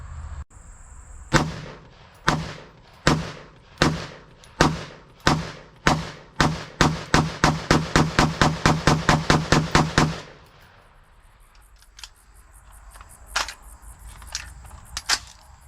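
Rapid gunfire from an AR-15 shooting Federal M193 5.56 ball ammunition: about two dozen loud, sharp cracks, spaced at first then quickening into a steady string before stopping abruptly, followed by quiet outdoor ambience with a few faint clicks.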